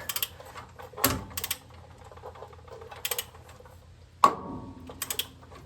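A ball joint pops under pressure while being pressed into a Ford Dana 60 axle. A few sharp metallic cracks and clicks stand out near and loud over quiet mechanical ticking, with the loudest snap near the end.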